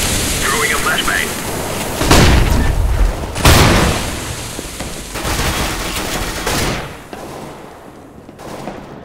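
In Counter-Strike: Global Offensive, sharp cracking bangs of grenade blasts, including a flashbang, burst out loud and close at several points amid continuous game noise, while a player talks throughout.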